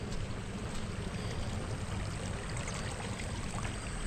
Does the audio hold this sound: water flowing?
yes